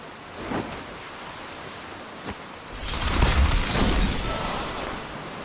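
An ice spell in Octopath Traveler 2 conjures an ice boat: a brief crackle and thud, then a loud, broad icy rush like shattering frost and surging water that swells midway and holds to the end.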